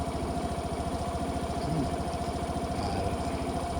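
A Suzuki Burgman 125 scooter engine idles smoothly and steadily, a close, even low rumble with a fine regular pulse that holds unchanged throughout, with no voices.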